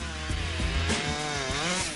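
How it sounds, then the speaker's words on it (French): A chainsaw bores into a standing tree trunk to test whether it is solid or hollow, its engine roaring steadily and loud at close range with slight shifts in pitch as it cuts. "Il fore les arbres à la tronçonneuse pour vérifier s'il pourra y grimper sans danger."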